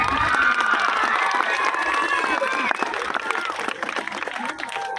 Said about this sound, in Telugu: ఇది ఒకవేళ యాక్సెప్ట్ చేస్తే గట్టిగా చప్పట్లు కొట్టాలి.